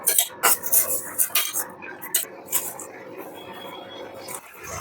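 A spoon mixing ingredients in a pot for kalakand sweet clinks and scrapes in quick, irregular bursts, loud and close at first, then settling into softer stirring.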